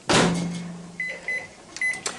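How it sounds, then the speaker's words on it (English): A microwave oven runs while reheating gravy: a steady low hum starts after a clunk, then a series of short high electronic beeps sounds near and clear, with no talk. "You're going to smush up the clumps and put it back in the microwave for a minute."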